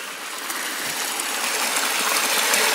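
Steady rushing of a clean flowing stream in Ebbor Gorge, broadband and continuous, close by with no voices.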